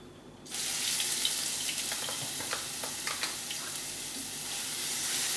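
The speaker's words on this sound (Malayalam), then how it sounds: "അപ്പോൾ അത് രണ്ടും ഒന്ന് മൂത്ത് കഴിഞ്ഞാൽ നമുക്ക് അതിലേക്ക് ജിഞ്ചർ ഗാർലിക് പേസ്റ്റ് ഇട്ട് കൊടുക്കാം." Ginger garlic paste fries in a pan for a coconut milk chicken curry, giving a steady close hiss with scattered crackles and pops after a quiet opening.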